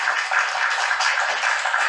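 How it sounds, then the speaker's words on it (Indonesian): A TikTok Live applause sound effect plays as dense, continuous crowd clapping, loud and even from start to finish with no voices over it. "Tepuk tangan,"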